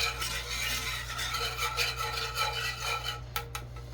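A utensil rubs and scrapes steadily through a breakfast casserole mixture in a pan, a continuous raspy stirring with a low hum beneath and a couple of sharper scrapes near the end.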